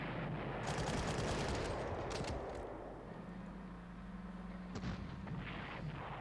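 Artillery fire strikes a tank in the Panzer Corps strategy game, depicting a 1941 Moscow battle, heard as a rumbling barrage of dense booms and rattling bursts that stays loud throughout, with a sharper blast near the end.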